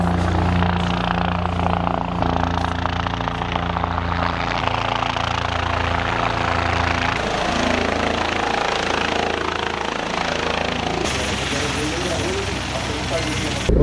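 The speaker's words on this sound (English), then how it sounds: "So the helicopter have arrived." A helicopter's rotor and engine drone loudly and steadily throughout at Gangtok, with voices talking underneath the constant whirring.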